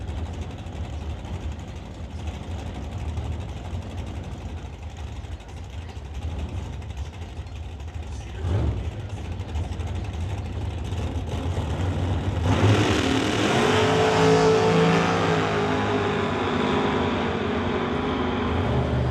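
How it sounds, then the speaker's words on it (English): A 1967 Chevelle drag racing down the strip at the Mission, BC raceway: a distant engine drone idles, then surges into a louder, broadband roar that holds through the run. "So Martin leads first in the Chevelle, goes through the top end with a 573 at 120 miles an hour"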